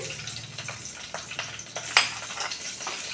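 Nigella seeds and slit green chillies hit hot oil in a wok, a steady crackling sizzle with scattered sharp pops and a soft stirring scrape, close and moderately loud.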